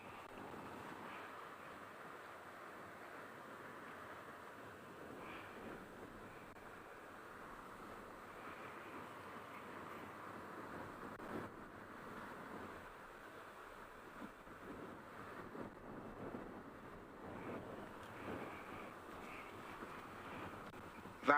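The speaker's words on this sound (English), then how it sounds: "That's the sound of the water that I am getting from where I am." Steady flowing river water at the Mara in Kenya, a soft continuous wash with gusts of wind buffeting the microphone, fairly faint and without any voices.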